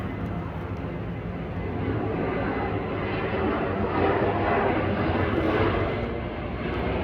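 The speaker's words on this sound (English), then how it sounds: "There goes the airplane again." Airplane passing over a San Jose condo complex, a steady broad roar that swells slightly mid-clip and hangs continuously throughout, loud and close overhead with no talk.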